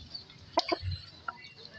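Close, brief clucks from Balao, a prized gamecock, come in a quick pair and then a faint single note, with a low thump between them.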